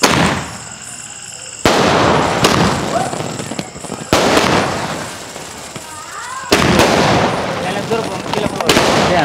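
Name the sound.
120-shot multicolour firework cake exploding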